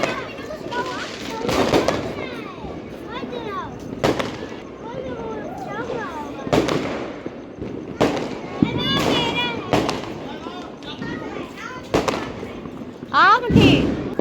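Diwali firecrackers and fireworks burst repeatedly outdoors at a family celebration, sharp cracks and booms scattered at irregular intervals, some near and some farther off, with people talking between and over the blasts.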